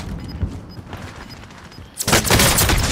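Gunfire in Call of Duty Warzone on the Alcatraz map: a few muffled distant thuds, then a sudden heavy burst of shots that keeps roaring to the end.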